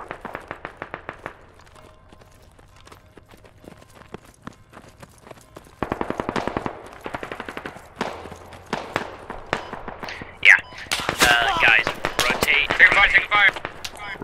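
Gunfire from the military shooter Squad crackles in rapid bursts and scattered single shots, some near and sharp and others distant, with quieter gaps between volleys.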